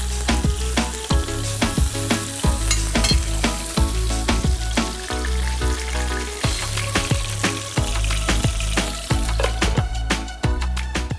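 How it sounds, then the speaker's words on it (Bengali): Chicken shashlik kebabs fry in hot oil over low heat, a steady loud sizzle and crackle with repeated sharp spits and pops running throughout, no voices. "তো তেলটা গরম হয়ে গেছে, আমি এক এক করে শাসলিকগুলো দিয়ে দিচ্ছি।"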